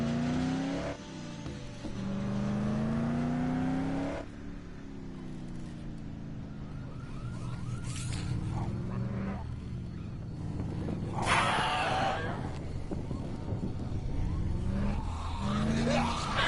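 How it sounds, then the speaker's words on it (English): Car driven in the game Dead Island, engine revving through several gear changes with tire squeals and scraping impacts, fairly loud and continuous with no talk. "I'm gonna get in the car and then drive over to that hellscape of a crash."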